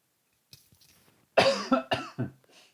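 A few quiet throat sounds, then a burst of three or four loud, harsh coughs in quick succession, close to the listener.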